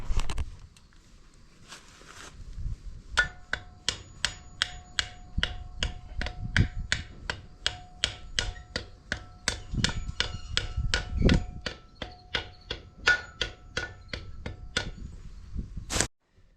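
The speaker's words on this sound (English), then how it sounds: "you're gonna have to use a hammer or something to kind of seal it up" A hammer taps a wheel bearing seal into a trailer wheel hub: steady light metallic tapping, roughly two taps a second, for several seconds with a faint ringing tone behind it and a louder final strike.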